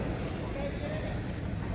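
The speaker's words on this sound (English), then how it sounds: "So this will be James Smucker doing the driving with Doc and Harley, the horses." Heavy draft horse hooves clomp on the ground at a horse pulling contest amid a noisy outdoor crowd and a voice, brief and somewhat muffled by the surrounding din.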